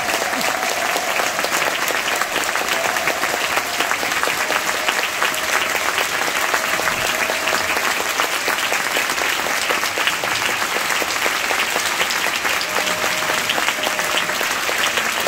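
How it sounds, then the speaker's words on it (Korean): Large audience at a ceremony welcoming descendants of missionary Williams, clapping in a sustained, dense burst of applause that stays loud and even for the whole stretch. "우리 이분들에게 뜨거운 박수, 환영과 감사의 마음을 보내주시면 고맙겠습니다"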